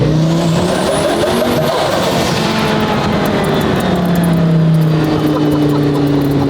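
A one-off twin-turbo Lamborghini V10 supercar accelerates hard, its engine note sweeping up through the gears with turbo whine and a brief shift dip, loud and close, with no talk over it.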